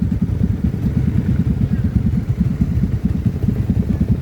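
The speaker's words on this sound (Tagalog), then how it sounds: "4 na motor kami ngayon" Several motorcycles ride together as a group of four heads out toward a resort, a steady low engine drone with rhythmic pulsing close by and continuous throughout, with no talk.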